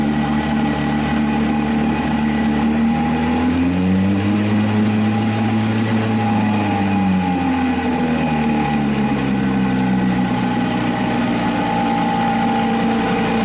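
A two-stroke boat engine runs continuously with a loud, droning hum, its pitch rising and falling as the revs change midway and again near the end.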